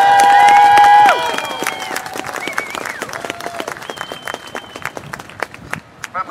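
Loud crowd applause with some cheering honours marchers at a protest speech in front of a Plan Nord trade show, starting strong and continuing in uneven waves while voices and whistle-like tones ring over it.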